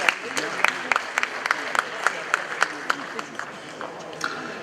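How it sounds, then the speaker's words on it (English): Audience at a media awards ceremony applauding the President, fairly sparse, distinct claps popping over a background murmur, moderately loud and easing off toward the end. "One more big round of applause."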